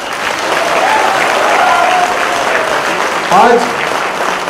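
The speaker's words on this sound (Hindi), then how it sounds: "मैं चाहूँगा कि ज़ोरदार इनके लिए तालियां बजाए" A crowd at a stunt artiste committee meeting claps loudly and continuously for a stuntman insurance supporter, a full sustained round of applause with a voice briefly rising over it near the end.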